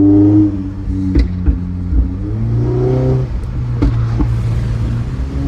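A tuned Toyota Camry engine revs under throttle, its pitch climbing and falling across a few pulls with sharp pops between, loud and close from inside the car.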